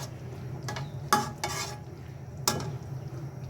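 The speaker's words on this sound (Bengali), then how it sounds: "মাংসটা হচ্ছে ভুনা করে নিলাম।" Meat being stir-fried bhuna-style in a pot, with a few sharp scraping clinks of a spoon against the metal at intervals over a low steady background hiss.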